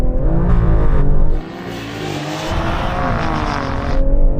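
A BMW M340i and a Mercedes-AMG A45 launching side by side in a drag race: loud, close engine roar rising through the revs, a brief dip at a gear change, then a strong, steady pull building again.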